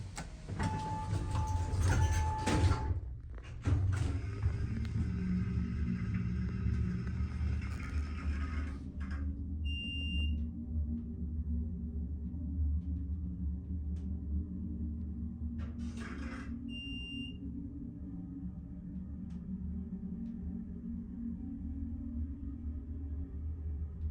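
Hydraulic elevator motor running at the Law and Technology Center in Southfield, a steady low hum and rumble throughout, with door sliding noises and two short chime tones during the run.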